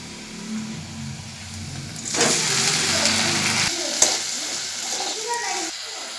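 Chopped tomatoes hit hot oil with fried onions in a pan for Odisha-style sooji upma, a sudden loud sizzle that rises mid-clip and hisses steadily before easing off, with a low hum underneath.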